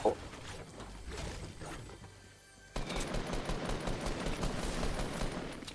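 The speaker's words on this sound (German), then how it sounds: "Oh, Schuss abgehauen." Rapid automatic gunfire in the video game Fortnite, a dense stream of loud shots that fades briefly and then resumes in a sustained burst, close and continuous.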